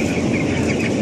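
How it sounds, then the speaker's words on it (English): Chickens cluck in a large, crowded poultry house holding thousands of birds, a dense, continuous chorus of clucks heard up close. "this is the poultry house of Reidu with a capacity of"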